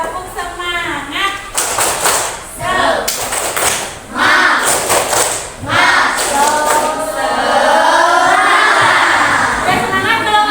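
A primary school class performs a 'tepuk semangat' clapping chant, sharp bursts of group claps alternating with loud chanted voices, then sustained group vocalizing near the end.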